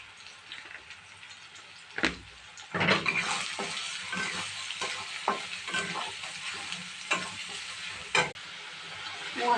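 Spice masala of Kashmiri chili powder, cumin powder, coriander powder and green chili frying in oil in a pan, with a steady close sizzle and repeated scraping strokes of stirring throughout.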